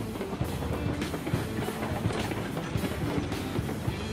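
Train rolling on rails in the video game Railroads Online, a continuous loud rumble with rhythmic clickety-clack of wheels over rail joints, close and steady with no talk.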